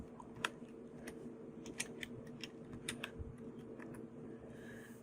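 Keys clatter on a computer keyboard in a quiet room, faint and irregular, with a soft low hum beneath. No one speaks.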